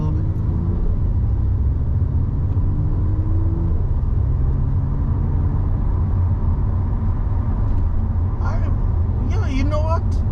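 Audi S4 with a new gearbox mount insert accelerating from inside the cabin, a loud steady engine drone and road rumble with rising pitch that drops at a shift, and a person speaking briefly near the end.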